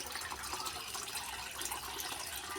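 Water pouring into a garden fish pond, with a steady close hiss and splash of running water that stays even throughout.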